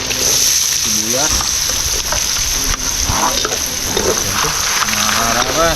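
Onion frying in butter in a pan gives a loud, continuous sizzle, with stirring and scraping noises throughout and a voice talking over it.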